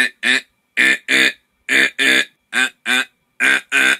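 A voice imitates a duck's quack mixed with a raspy vocal distortion, giving nine short, loud, buzzy bursts in an uneven rhythm with brief silences between them.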